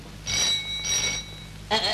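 An old-fashioned telephone bell rings in a classic 1949 Hindi film, two bright metallic bursts followed by a third starting at the end, fairly loud and clear with no talk over it.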